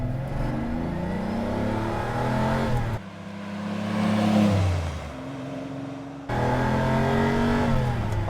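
A Lamborghini Countach pulls away, its engine droning and rising through revs, easing off briefly mid-way before surging again as it drives off, fairly close and steady.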